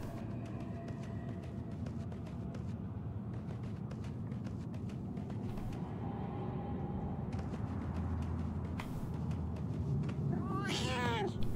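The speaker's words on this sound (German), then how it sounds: "Ah, hier ist eine Katze." A cat in the video game Murdered: Soul Suspect gives a short, rising meow near the end over a low, steady ambient game background.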